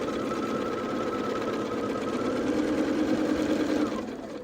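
A sewing machine runs in a steady, continuous whir while stitching quilt fabric, loud and close throughout, with the motor easing off slightly near the end.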